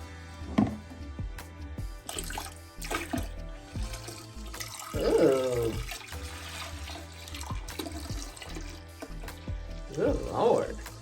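Dirty water from a carpet cleaner splashes and pours out in uneven gushes while a person talks over it and exclaims.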